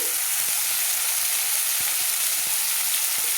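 Ground spices, including cumin powder, hit hot oil with frying tomato while cooking a green pea ghugni. The result is a loud, continuous sizzle broken by a few soft stirring clicks.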